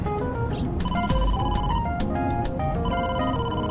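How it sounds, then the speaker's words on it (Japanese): A telephone rings inside the video game AI: The Somnium Files, a bright electronic ring tone with repeating tonal pulses over steady game background music. "熟考中にすまないがボスから電話だ。"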